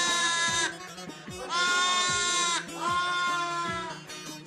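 Several newborn lambs bleat in long, loud, quavering cries, three drawn-out calls close by, with soft thumps and shuffling underneath as they warm beside a stove indoors.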